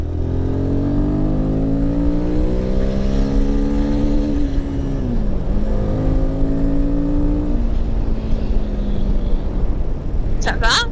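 A Royal Enfield Himalayan 450 motorcycle engine strains and climbs in pitch uphill, holding a steady drone as it accelerates continuously, with a brief sharp noise near the end.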